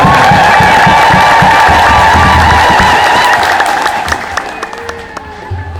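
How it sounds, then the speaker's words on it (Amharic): A church congregation in Ethiopia joins in loud, sustained ululation of praise, a dense crowd roar with high trilling voices and scattered clapping and shouts that fades slightly toward the end. "እልል ብላችሁ አመስግኑ።"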